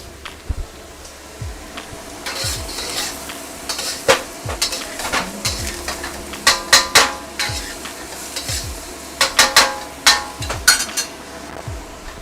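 Carrots stir-frying in a wok for fried rice, a steady sizzle broken by repeated sharp scrapes and clinks of the utensil against the metal as the pieces are tossed, with no talking.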